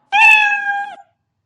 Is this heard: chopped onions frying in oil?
no